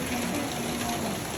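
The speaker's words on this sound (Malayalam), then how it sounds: "എല്ലാവർക്കും മഴ കാണിച്ചു തരും." Rain falls steadily in a soft, even hiss throughout this brief moment, fairly close and with no voices heard.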